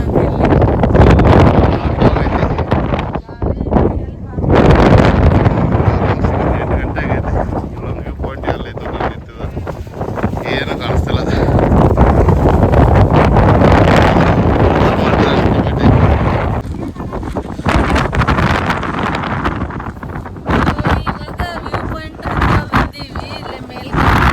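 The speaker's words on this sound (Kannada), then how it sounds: "ಆಕ್ಚುಲಿ ನಾನಿಲ್ಲೇ ಮಾತಾಡತ್ತೀನಿ, ಬಟ್ ಏನು ಕೇಳ್ಸಾತಿಲ್ಲ. ಬಿಕಾಸ್ ಅಷ್ಟು ಗಾಳಿ ಐತಿ." Strong gusting wind roaring across the exposed Mugilpete peak in Coorg, loud and buffeting the microphone continuously for the whole stretch, with bursts rising and easing and no clear talk over it.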